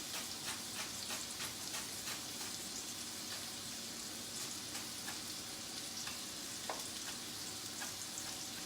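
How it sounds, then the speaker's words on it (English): A knife finely chops rolled parsley for gremolata on a cutting board, a quick, fairly regular series of faint crisp taps with no talk. "I'm going to wrap it up and then give it some fine chops."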